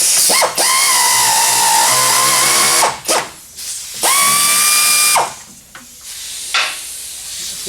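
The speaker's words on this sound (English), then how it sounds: "grab my Big Billy BA air ratchet. I'll give that a shot." An air ratchet in use while pulling the bumpers off a Mk I Ford Capri, with several loud whirring bursts of a few seconds each, separated by short pauses and rattling clicks, and no talk.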